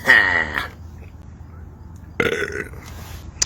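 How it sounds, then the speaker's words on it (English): A loud, drawn-out burp after drinking Mountain Dew Flamin' Hot soda, close to the mic, followed after a pause by a shorter second belch-like sound. "that was pretty damn good burp"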